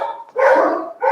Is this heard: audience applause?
no